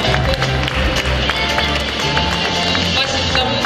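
Audience applause at a fashion show: loud, dense clapping sustained throughout, with a faint voice and music murmuring underneath.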